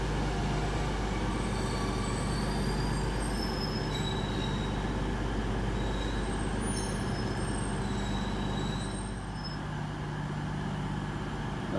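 A train rolls through Exeter St David's station on a Saturday evening, a continuous loud rumble of wheels on rail with faint high squeals, steady throughout with no talk.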